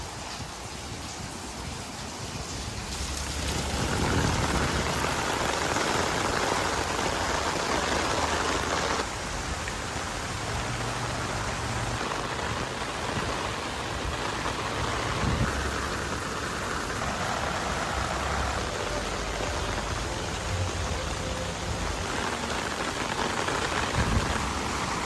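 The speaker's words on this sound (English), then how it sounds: "For the first rain test, I put this tent through about 2 hours of heavy rain." Heavy rain pours onto the rainfly of an REI Arete ASL 2 tent as a loud, dense, continuous hiss that swells slightly after a few seconds and holds steady, with no voices.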